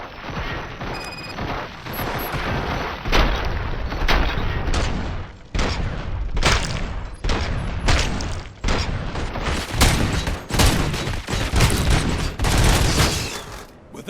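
Gunfire in the video game RoboCop: Rogue City comes as loud, repeated bursts of shots in rapid volleys across the whole stretch, with brief gaps between them. Voices are heard intermittently among the shots.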